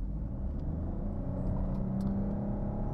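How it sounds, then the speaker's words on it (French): A Lexus LBX pulling away at full throttle from a standstill, heard from inside as a steady low rumble and whir without gear changes, moderately loud and even throughout. "Je vais accélérer à fond."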